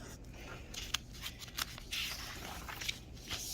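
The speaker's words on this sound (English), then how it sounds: "And then write my answer over here." A pencil writes out a subtraction answer on paper in quick, close scratching strokes with brief pauses, steady and fairly quiet, without speech.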